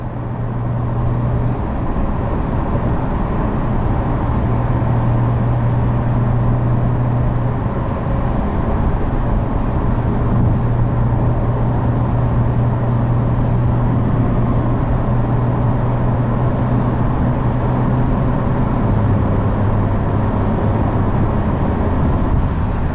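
Porsche 992 911 Carrera S with PDK gearbox accelerating hard, a loud, continuous engine drone with steadily rising pitch and an upshift near the end, heard from inside the cabin with no talking.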